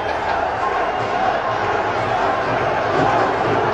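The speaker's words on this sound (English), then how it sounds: "Crowd chanting." A large cricket crowd at a PSL match in Lahore roars and chants continuously, a dense, loud wash of massed voices filling the stadium with no pauses.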